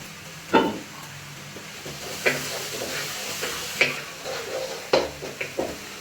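Ginger and garlic sautéing in coconut oil for a crab roast: a steady close sizzle with soft hiss, broken by occasional sharp clacks and scrapes from stirring.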